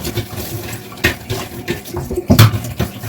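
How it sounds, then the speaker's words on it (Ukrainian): Running water splashes and rinses over a dish-drying rack in a home kitchen, with uneven gushes and a few clattering knocks against the metal grid, close and fairly loud. "Спочатку змиваю ось цю решітку."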